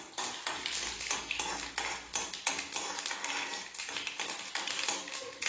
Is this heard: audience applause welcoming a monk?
no